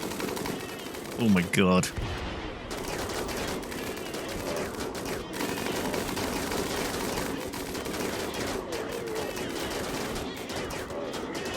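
Gunfire from a defensive firing line in the video game Rimworld, with dense, sustained rapid shots rattling on continuously under a steady din. A brief excited voice exclaims near the start.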